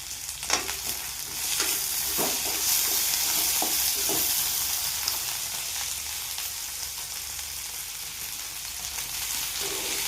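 Sliced okra fries in hot oil in a pan, a dense continuous sizzle with scattered sharp pops and crackles of splattering oil, close and steady, with no voices.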